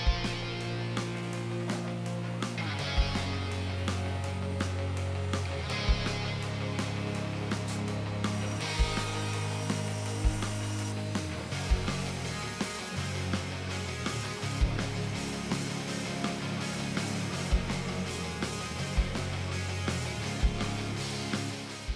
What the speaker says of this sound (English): our CNC router, so you can kind of see that process where we start to cut and machine parts for cabinetry